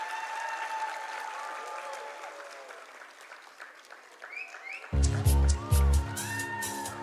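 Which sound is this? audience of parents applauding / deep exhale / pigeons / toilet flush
audience of parents applauding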